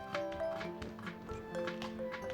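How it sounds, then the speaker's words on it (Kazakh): Onion sliced with a knife for Uzbek-Karakalpak shavla, a rapid run of crisp taps on a cutting board over steady background music. "Енді пиязымызды осылай турап аламыз."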